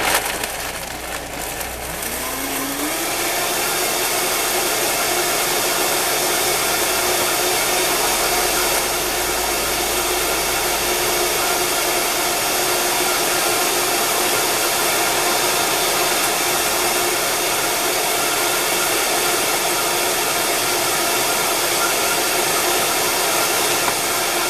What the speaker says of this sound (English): And let's blend it up nice and creamy.